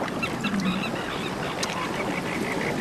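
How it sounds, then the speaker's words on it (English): Kelp geese browsing on rocks beside coastal kelp beds give repeated honking and quacking calls, fairly close and steady over a continuous backdrop of water and wind. "plenty of kelp geese browsing on rocks close to the kelp beds"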